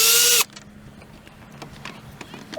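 A power drill undoes screws on the driver's side door panel of a 2002 Honda Civic Si EP3, one loud close burst of whirring at the start, then quiet handling sounds and light clicks.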